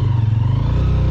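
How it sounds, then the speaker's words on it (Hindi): Motorcycle engine idling or running steadily on a ride through the Haramosh Valley, a loud, close, throbbing low rumble with a rapid regular pulse. "बाइक पे निकल गए हैं डबलिंग करके।"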